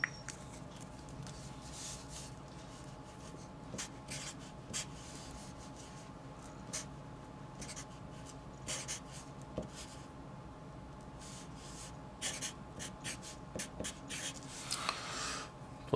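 Math is written out by hand, faint scratchy pen strokes coming in short irregular bursts over a steady low room hum.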